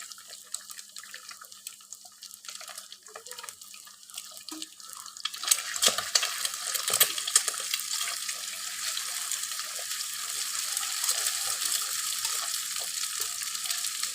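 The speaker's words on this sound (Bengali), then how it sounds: "আমরা নুডলসে যেভাবে ডিম খাই ঠিক সেভাবে ঝুড়ি করে দিচ্ছি এখন" Eggs seasoned with pepper scramble together with onion in a hot pan, a soft, broad sizzle that grows louder and steadier partway through, with faint scraping of stirring early on.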